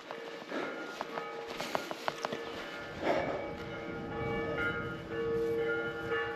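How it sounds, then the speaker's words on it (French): Village church bells ringing in the mountains of Ariège on a hiking trail, moderately distant sustained tones over footsteps and outdoor noise. "Les cloches de l'église."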